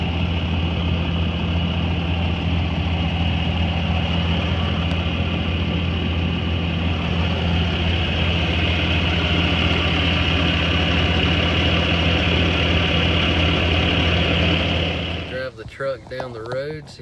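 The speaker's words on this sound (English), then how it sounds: "This is with the truck running." A 2020 Ram 3500 pickup idling: a steady, low, even engine hum with a constant drone, unchanging for about fifteen seconds before handling noise breaks in at the end.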